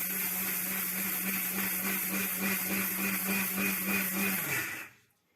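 A kitchen mixer grinder runs steadily with a loud, even whirring drone while preparing traditional Haryanvi food, then cuts off abruptly near the end; no voices.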